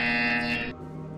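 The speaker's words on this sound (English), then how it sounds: "You will hear a buzzer." A buzzer in Portal Stories: VR sounds one harsh, loud electronic tone that holds briefly and then cuts off sharply, leaving a fading hum.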